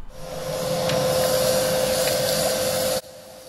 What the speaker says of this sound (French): je suis en train d'aspirer par terre